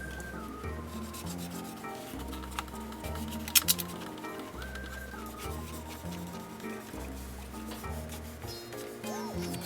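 Lacquer paint on a 1949 Mercury AMT model car body being sanded by hand, a steady soft rubbing scrape repeating in short strokes, close and moderately quiet, with no talking.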